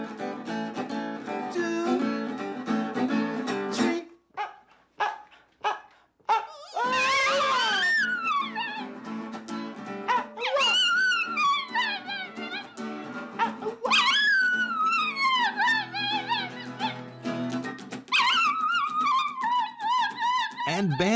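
Banjo the dog sings in long, wavering howls that slide up and down in pitch, loud and close, over a musical accompaniment, with a few short yips between the drawn-out notes.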